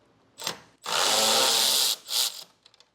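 A power tool removes 10mm screws from the grille of a 2025 Chevrolet Silverado truck: a short whir, then a longer high-pitched spin lasting about a second, and a final brief burst before light clicks.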